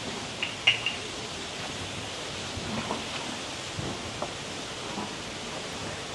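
A waterfall at Khao Yai sends out a soft, even rushing wash of falling water, fairly faint and steady throughout.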